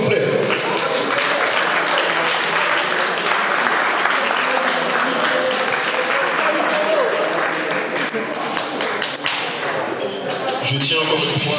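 Loud applause from the crowd at La Serre 2021 dance battle, top 44 round, with a sustained roar of clapping and cheering under an announcer's voice, continuing at full strength to the end.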